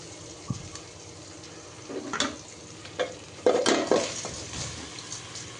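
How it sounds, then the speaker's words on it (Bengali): Broken rice being stir-fried with onion and ginger-garlic paste in a pan, with a spatula scraping and clinking in scattered strokes over a steady low sizzle, close by. "খুদের চালটা দিয়ে দিলাম। এখন এটা আমি ভাজা ভাজা করে নিব।"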